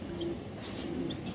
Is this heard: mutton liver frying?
no